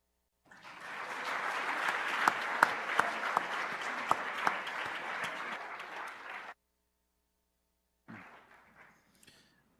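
Sustained crowd applause at a university employee recognition ceremony, many hands clapping steadily for several seconds, then cutting off abruptly before a brief, quieter burst of clapping.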